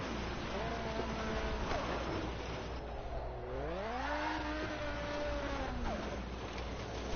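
A drift car in a racing video game slides fast through corners, its engine tone rising and falling in continuous revving sweeps, loud and close throughout.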